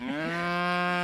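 A single cow on a dairy farm gives a steady, sustained moo, loud and close, with no other sounds around it.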